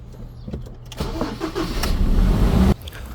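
A Ford Ranger 2.2 engine starts, with a loud cranking burst settling into a steady, rough idle before cutting off, heard close up in a garage setting without talk.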